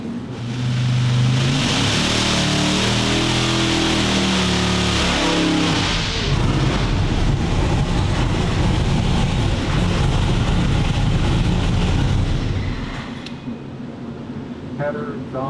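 A big Hemi V8 on a dyno makes a short pull, its roar rising steadily and holding loud for several seconds before cutting off abruptly, with faint talk underneath.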